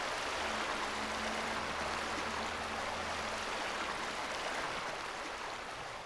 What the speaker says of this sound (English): you just hear the sound of the water flowing down the hill